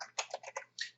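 A username is typed on a computer keyboard: a quick, close burst of about six or seven crisp keystrokes with short gaps between them, heard alone without any talk.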